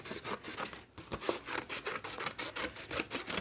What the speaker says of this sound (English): cut in just a little bit to your petal, and then cut around